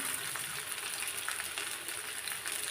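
Leaf and onion fritters fry in oil, a soft, even, continuous sizzle at moderate distance with no speech.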